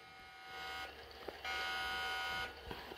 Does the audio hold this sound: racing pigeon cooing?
no